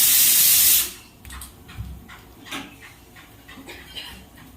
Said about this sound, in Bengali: প্রেশার কুকারে সিটি পড়েছিল